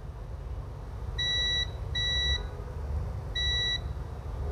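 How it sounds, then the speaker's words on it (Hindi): A multimeter in buzzer continuity mode, used while tracing a short on a circuit board, gives three clear electronic beeps, each about half a second long, with short gaps between them, loud and close over low background hum. "हम बजर मोड पे मल्टीमीटर को रखेंगे"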